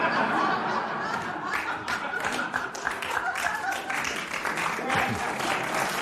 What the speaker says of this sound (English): They're barely clapping.